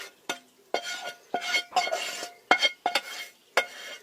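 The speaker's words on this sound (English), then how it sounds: "basically you mix it all together, add the onions, so the onions go in one mixture" A mixture with onions being stirred in a pan inside a campervan, a series of about eight sharp spoon scrapes and clinks against the pan, close and evenly spaced, with light sizzling.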